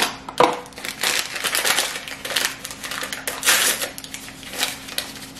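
A spoon scrapes and stirs through a bowl as Jell-O cheesecake pudding mix is worked into a pumpkin cheesecake filling, making close, uneven scraping and clinking bursts that go on without pause.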